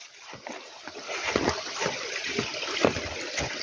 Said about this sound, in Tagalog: Ilog. Kung saan kami kumukuha ng inumin.